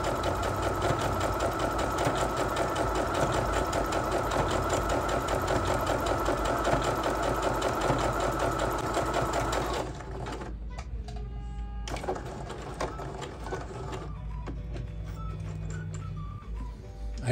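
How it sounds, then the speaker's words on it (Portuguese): A Singer HD sewing machine stitching an invisible hem at medium speed, a close, steady rapid mechanical whir for about ten seconds, then quieter intermittent clicks and handling sounds as the stitching stops. "Eu coloquei a máquina na velocidade média para vocês verem aí de casa a agulha pegando bem na pontinha"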